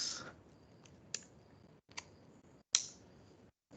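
A few sparse keyboard key clicks at a computer, quiet and close, separated by pauses with faint room noise and no talking.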